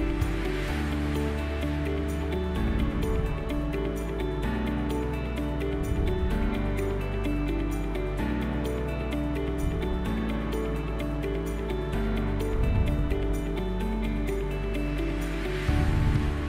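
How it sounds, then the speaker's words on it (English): Water pours steadily over a rectangular notch weir on a laboratory hydraulic bench, a constant rushing wash with a low pump hum underneath, continuous and unbroken with no voices. "Slowly increase the discharge. As it overflows the apex,"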